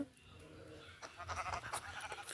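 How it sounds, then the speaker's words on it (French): Sheep bleating in the Minecraft video game, a short close bleat rising over a faint steady game background with no talking. "Ah, un mouton!"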